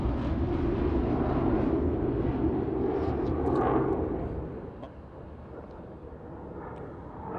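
A Eurofighter Typhoon multi-role combat jet roars at the Farnborough Airshow. Its loud, broadband engine rumble holds steady, then fades noticeably as it moves away, leaving a quieter distant hum.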